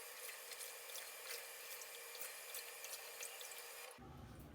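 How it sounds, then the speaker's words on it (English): Running water from a tap rinses shaving soap lather off, a steady wash of splashing water that shifts to a different, lower flow near the end, with no talking. "let's rinse this off"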